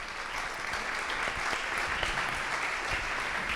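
An audience at a media ethics assembly applauds the guests of a closing panel, with sustained, even clapping from a crowd heard from within the room.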